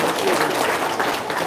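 Audience applause for Mr Peri, a dense, steady patter of many hands clapping close by that fills the whole moment without a break.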